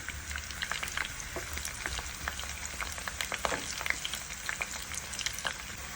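Onions, green chillies, mint and curry leaves fry in a pan with a steady close sizzle and crackle, punctuated by small pops and occasional stirring, with no voices.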